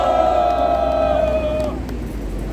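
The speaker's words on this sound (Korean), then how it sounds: "힘찬 격려 함성 와를 부탁드리겠습니다" A rally crowd at a press conference for a civic coalition lets out a sustained, loud shout of encouragement that holds steady and then fades after about a second and a half.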